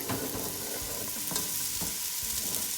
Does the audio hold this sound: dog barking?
no